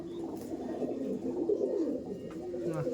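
Pigeons of fancy breeds kept for sale coo in low, rolling murmurs, several birds close together, with faint background noise and no clear talk.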